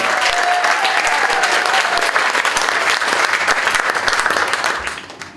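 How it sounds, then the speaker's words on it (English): A wedding audience gives the groom a sustained, loud round of dense clapping, steady throughout before tapering off in the final half second. "One more round of applause for Adam"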